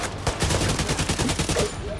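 An enemy turret in The Division 2 fires in a rapid, even stream of shots throughout, loud and close, with busy game ambience around it.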